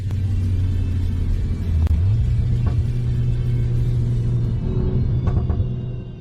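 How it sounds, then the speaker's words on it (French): A 2024 Volkswagen Golf hatchback's exhaust in Nürburgring mode rumbles deeply and steadily, its low drone shifting up in pitch partway through, loud and close with no voices. "l'échappement dans ce mode, spécifiquement en mode Nürburgring, est vraiment bavard"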